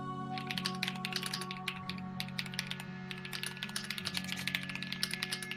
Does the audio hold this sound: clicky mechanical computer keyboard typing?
yes